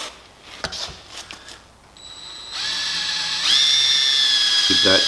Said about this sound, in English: we'll bring it over to the vise, and we'll get the holes drilled